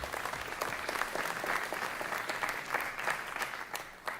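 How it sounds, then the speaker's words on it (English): A church audience gives polite applause, a steady patter of many hands clapping at moderate volume, without cheering, for about four seconds. "That was a great, polite golf clap you just gave"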